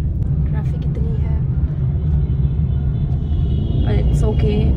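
Busy road traffic rumbles continuously at close range on a hot sunny day, a dense low roar of passing vehicles with faint horn-like tones and brief voices over it.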